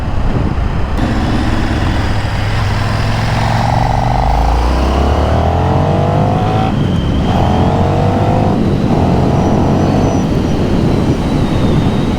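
A 2024 KTM 1390 Super Duke R motorcycle accelerates hard on the throttle, its engine note climbing through rising revs and gear changes, loud and close with wind and road noise underneath.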